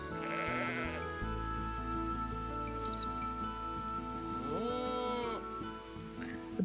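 Sheep bleating in the PS2 role-playing game Legaia 2: Duel Saga, a short wavering bleat rising over steady game music and ambient background sound, close and fairly loud.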